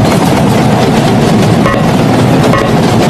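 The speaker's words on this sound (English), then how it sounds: "We're about to get a train." A video game train rushes past close and loud, a dense continuous rumble with steady clatter filling the whole clip and no voices over it.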